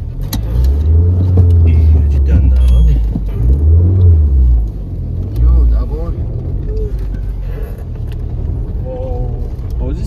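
A car pulls up nearby with a loud, deep engine rumble that swells and eases as it slows, then settles into a lower idle while people talk.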